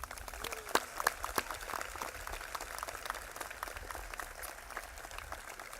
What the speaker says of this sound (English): Please join me in applauding our Golden Petrels one more time